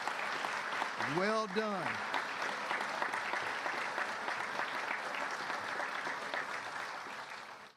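Applause at a police department promotions ceremony fills the whole stretch, a steady broad wash of many hands clapping, with a brief spoken congratulation near the start.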